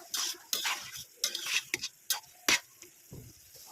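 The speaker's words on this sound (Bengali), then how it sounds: "ভালো করে নাড়া দিয়ে নেবো" Palm seed murabba being stirred in a pot, a spoon scraping and clacking against the metal in irregular close strokes with short pauses between.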